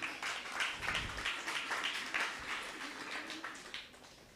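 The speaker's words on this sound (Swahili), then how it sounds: "Tuwapigie makofi." An audience at a youth church seminar claps and applauds, a quiet, fairly distant patter of many hands that fades slightly toward the end.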